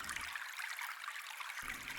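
Water runs steadily in a private steamy bath setting in a cyberpunk city, a continuous soft hissing trickle with a brief low gurgle at the start and end.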